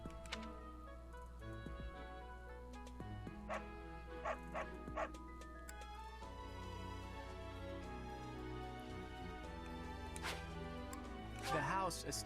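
A dog barks in a house, a few bright yips and bow-wows scattered over steady game music, fairly faint and intermittent, with a brief whimpering flurry near the end.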